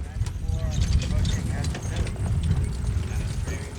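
Quarter horse and Friesian cross carriage horses pull through a hazard at a combined driving event, their hooves clip-clopping faintly under an announcer's steady commentary.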